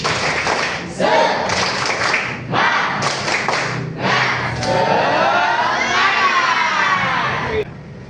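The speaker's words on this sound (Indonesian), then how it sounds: "Tepuk semangat." A classroom of students performs a patterned group spirit clap (tepuk semangat), with several sharp bursts of clapping and rhythmic pauses between them, followed by cheering and shouting voices in a lively indoor room.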